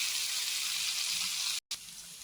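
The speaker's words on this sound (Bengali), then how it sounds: "আলুটাকে ভেজে নেবো সেদ্ধ করার কোনো দরকার নেই জাস্ট ভাজা হবে" Potato pieces frying in hot oil, a loud steady hiss and crackle of sizzling that cuts out briefly near the end and then resumes a little softer.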